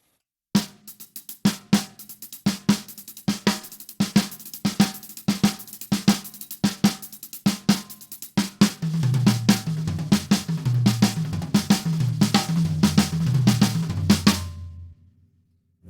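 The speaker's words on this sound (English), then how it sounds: "the accented notes on the snare drum, and we're gonna move the doubles elsewhere" Drums play a six stroke roll pattern, sharp accented single hits on the snare with quick doubled strokes elsewhere, later joined by a low tom-like rumble as the figure fills out before stopping.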